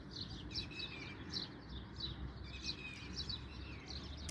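Wild birds near a homemade bird trap chirp and tweet in quick repeated bursts, faint and somewhat distant over a low steady outdoor rumble.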